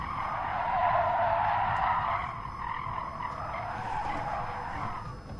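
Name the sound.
race car braking into curve, video game GT Sport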